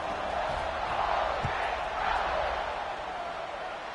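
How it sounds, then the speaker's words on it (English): Broad, steady roar of a large stadium crowd at a college football game against Ole Miss before a kickoff, distant and sustained with a slight swell partway through and no clear voices up front. "You think this crowd's going to get loud when their defense comes on the field?"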